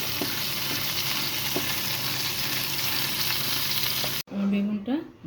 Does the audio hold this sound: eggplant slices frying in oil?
yes